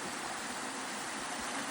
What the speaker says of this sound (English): yeah, the creek's flowing good.